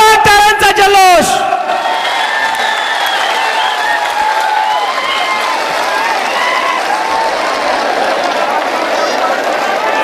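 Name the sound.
crowd applauding at a political rally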